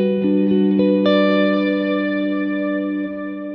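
Electric guitar with digital reverb pushed up to an ambient wash: a few plucked notes, then a chord that sustains and hangs in a long, spacious tail, loud and close, with no voices.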